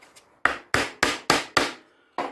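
Light taps on a wooden entertainment unit piece: five or six sharp, close knocks in a quick, steady rhythm, each with a short woody ring, and no voices.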